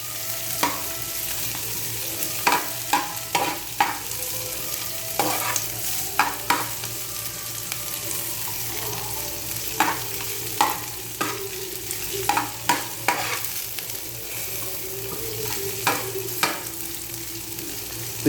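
Onions sauté in a pan with a steady sizzle, broken by repeated sharp scrapes and clacks of a spoon stirring them, close and continuous without any talk.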